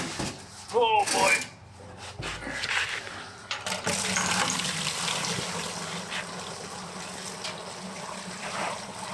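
Fluid poured from a white shell pail into a funnel lined with a rag, done while working on a Ford Bronco rear end; a brief splashing pour is followed by a steady trickle and faint rustling.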